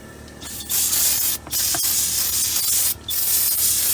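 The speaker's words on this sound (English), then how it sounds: "I'm gonna spray it down one more time" Cleaner sprayed onto a 4.6 intake manifold in long continuous hissing bursts, loud and close, broken by two brief pauses and a small knock, with no talk.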